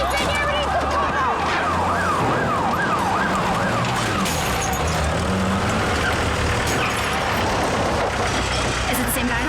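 An ambulance siren wails in a rapid repeating up-and-down sweep through a busy emergency scene, loud and close over traffic rumble, while people shout and talk nearby.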